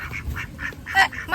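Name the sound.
ducks quacking near water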